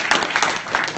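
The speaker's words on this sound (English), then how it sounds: "another round of applause for Andrew." An audience at a KyivJS conference claps after a talk, a short burst of close, scattered applause lasting about a second.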